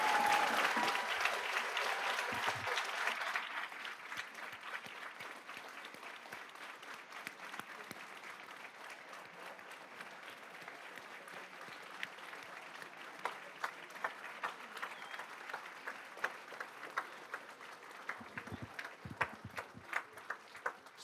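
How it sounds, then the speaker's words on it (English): A board meeting audience gives a big round of applause for a newly named state principal of the year, loud and full at first, then settling into a long, steady, quieter clapping that continues to the end. "How about a big round of applause?"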